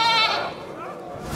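A goat lets out a short wavering bleat near the start, loud and close, fading quickly into quiet room tone.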